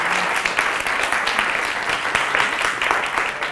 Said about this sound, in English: Let's give a big round of applause to Daphne.